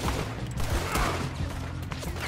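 Gunshots in Red Dead Redemption 2 come as a few soft, brief cracks buried in a dense, steady wash of game noise and music throughout.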